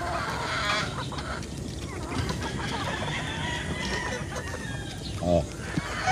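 A chicken kept by a breeder clucks close by against a busy background of other fowl and a person talking, with one louder, sharper call near the end.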